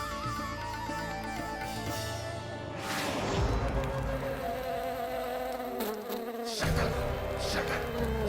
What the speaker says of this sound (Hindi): लगता है मक्खी थक गई है